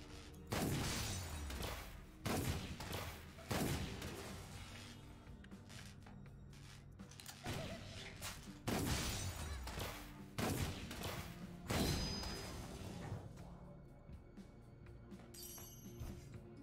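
Bursts of gunfire from a gun in the game Crown Trick, several loud volleys spaced a second or two apart, each crashing and sharp against a quieter backdrop.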